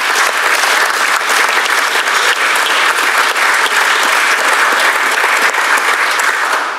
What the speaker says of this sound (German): hauen Sie raus den Applaus